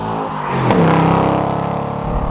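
A 2024 Ford Mustang GT with a 6-speed, top down and mud on its tires, spins its wheels and accelerates hard. Its loud engine roar rises sharply in pitch, then fades briefly.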